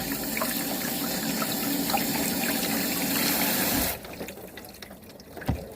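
Tap water runs steadily onto a block of tofu before slicing, a close continuous splashing stream that cuts off sharply near the end, leaving a quiet room with a faint knock.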